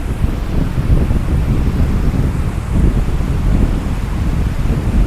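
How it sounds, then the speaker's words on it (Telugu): Steady roaring rush of falling water, broadband and continuous, with a windy rumble throughout and no voices. "అందమైన వాటర్ ఫాల్ని చూస్తున్నాం మేము"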